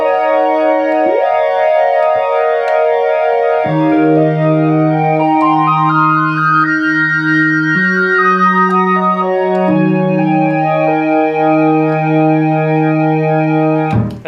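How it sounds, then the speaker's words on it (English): Memorymoog Plus synthesizer playing a strange organ patch with oscillator 3 modulating the voice and filter contour, sustained harmonic chords shifting step by step, steady and loud with no talk. "Another organ. Weird one."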